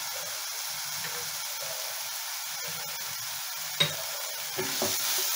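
Prawn chop mixture with chilli powder, cumin powder and sugar sautéing in a pan, a steady low sizzle with soft stirring scrapes and a couple of sharper clinks near the end, no talking.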